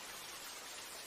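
Rain falling in a steady, even hiss, a brief dense wash of drops with no voices over it.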